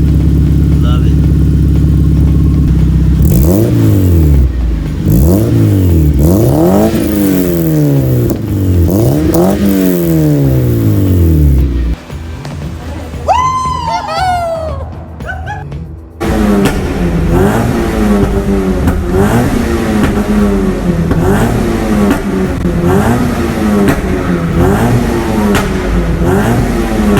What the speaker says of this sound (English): Stock Miata and an ISR exhaust.